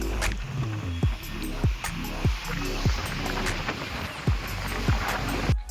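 Sea waves wash and splash along the shore at Rameshwaram, a steady broadband rush broken by repeated surges roughly every second, close and fairly loud.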